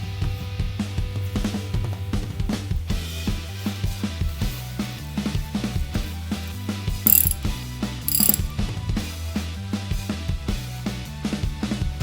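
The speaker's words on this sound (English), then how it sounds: "I'm going to torque these by hand" A ratchet wrench is worked by hand to tighten bolts on a 2.0 engine case. It gives a steady run of quick, close mechanical clicks in repeated bursts, with a couple of sharper metallic strokes midway and no talking.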